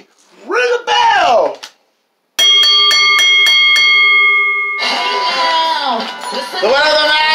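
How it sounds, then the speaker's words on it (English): At a women's street fight wrestling match, rapid clanging strikes of the ring bell ring out loudly, followed by a sustained ringing tone, with a commentator's voice before and an announcer talking over the tail end. "Ring the bell."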